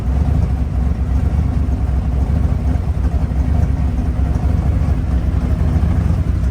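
A Hemi V8 idles with a steady, deep, loud rumble and no talking.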